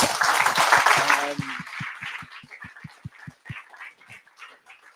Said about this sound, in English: Another round of applause for Martin.